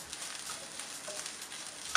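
Turmeric and Kashmiri chili powder fry with browned onions in a very hot pan for a coconut squid roast, giving a steady, close, even sizzle with faint stirring and no talk.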